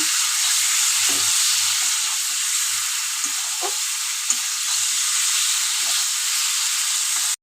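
Steady, loud sizzling of salt and turmeric frying in a pan, with a continuous bright hiss and occasional soft scrapes of stirring underneath.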